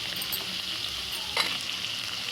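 Green chillies and onions sizzle and fry steadily in hot oil for an onion curry, a continuous crackling hiss with one brief louder spatter partway through, close and without talk.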